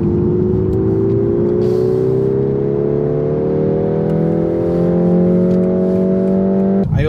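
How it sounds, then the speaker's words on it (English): A BMW 223i Active Tourer M Sport accelerates in sport mode, its engine note and artificial cabin sound rising in a smooth, steady whir through the gears. The sound is loud, heard from inside the car, with a sharp cut at the very end. "you can hear a bit of engine noise, but that's obviously artificial sound that's pumped into the cabin"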